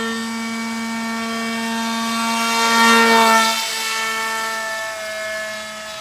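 A radio-controlled Alpha Jet model plane flies overhead with a steady, loud turbine-like whine that swells as it passes close at mid-clip, then eases off, with no talk.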